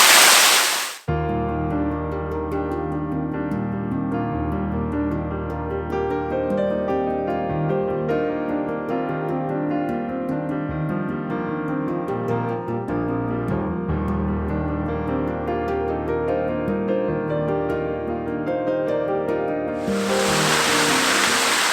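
Hidden waterfall in the Yorkshire Dales falling into a carved-out cavity, a steady, dense roar of rushing water heard close up and continuously for the whole stretch.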